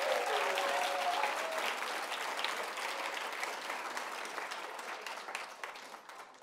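An audience gives a big round of applause for the Northeast High School team, dense clapping that starts strong and slowly thins as it fades over several seconds, with no talk over it.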